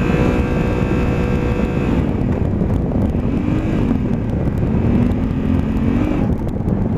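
A Honda Africa Twin motorcycle ridden in first gear at speed, its engine drone buried under heavy, constant wind rush, with a faint rising and falling engine tone.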